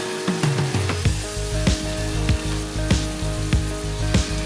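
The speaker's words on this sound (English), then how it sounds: "Now add the shrimp and cook them in the garlic butter for about 2 to 3 minutes until they turn pink and tender" Shrimp sizzle in garlic butter in a pan, a loud, close, continuous frying hiss broken by regular sharp clicks.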